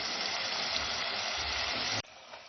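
Water splashes and rushes steadily for about two seconds as a cooking pot is rinsed and the water poured into a frying masala base for tandoori chicken biryani, then cuts off abruptly.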